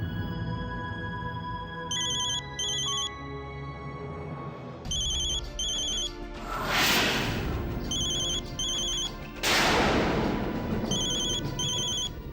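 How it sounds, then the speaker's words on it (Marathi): A mobile phone ringtone rings in repeated bursts of bright electronic tones over a dramatic music score in a Marathi TV serial scene, loud and clear with no talking. "कोणाचा फोन आहे."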